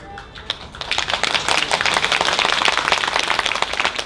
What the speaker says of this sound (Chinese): 赶紧欢迎，掌声欢迎